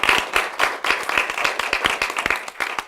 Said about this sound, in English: Okay, we're gonna clap that.